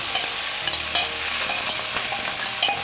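Cooked chickpeas and boiled raw plantain are stirred into a sizzling pan of koottucurry, with close scraping and stirring strokes over a steady frying hiss.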